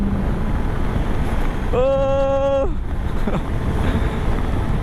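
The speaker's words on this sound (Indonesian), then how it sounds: "Asli ini angin gede banget." Strong wind roars continuously over the microphone of a Yamaha XMAX scooter riding at around 70 to 80 km/h, a loud, broadband buffeting rush with a brief tonal horn-like beep in the middle.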